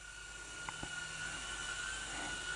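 A FuriBee F36 quadcopter drone hovers in place with a steady high whine of its small propellers, a continuous motor buzz with a couple of faint clicks near the start.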